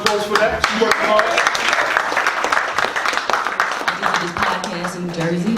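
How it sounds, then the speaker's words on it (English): Audience applause and cheering fill a talk show studio, a dense continuous wash of clapping with voices talking and whooping over it throughout. "Round of applause for that."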